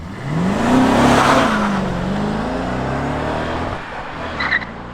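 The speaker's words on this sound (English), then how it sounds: "Oh, he got a second gear chirp." A stock BMW V8 car accelerates hard, its engine note sweeping upward, then a brief tire chirp on the shift into second gear, followed by the engine pulling on at a steady, slightly more distant level.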